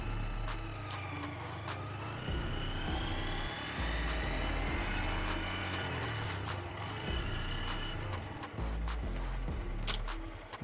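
A 2025 Honda Grom SP motorcycle is ridden and accelerates, its small engine droning steadily under wind rush with swells in pitch as it gains speed and shifts, heard from the rider's position.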